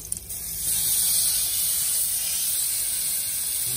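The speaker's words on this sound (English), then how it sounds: "Now we're turning the meat for the first time" A pork chop sizzles in a hot pan as it is turned, a loud, steady hiss that swells after a brief clatter at the start and then holds evenly.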